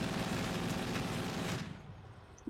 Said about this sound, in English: Quad cannon on that one.